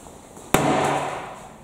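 A single sharp bang from a child's toy hammer striking something, one loud crack followed by a brief ringing decay, heard alone.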